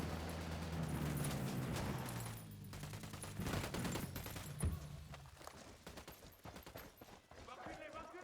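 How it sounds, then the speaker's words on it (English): Rapid bursts of automatic gunfire and a few heavier blasts from the video game Ghost Recon Wildlands, loud and rattling, pausing briefly and then resuming, with voices talking over parts of the shooting. "I'm shooting these fuckers."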